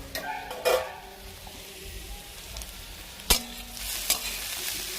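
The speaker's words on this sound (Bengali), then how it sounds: "আর এই যে আলুটা ভাজছি" Potatoes fry in a pan with a steady soft sizzle, broken by a few sharp clinks and scrapes of stirring that stand out at moments; no one speaks.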